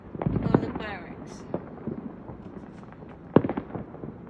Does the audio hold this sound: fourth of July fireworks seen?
yes